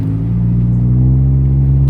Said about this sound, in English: I can still hear the exhaust on the inside